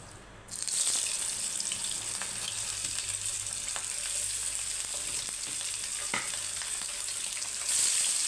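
Small hilsa fish frying in hot oil in a home kitchen, a steady close, loud sizzle running throughout with occasional crackles and a brief surge near the end.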